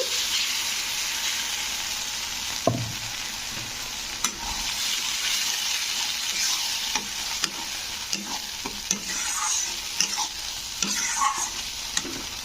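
Ground bottle gourd leaf paste with black cumin frying in a pan, a dense continuous sizzle under repeated scraping strokes and taps of a spoon as it is stirred, close and steady throughout.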